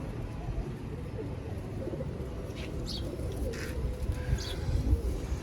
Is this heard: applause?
no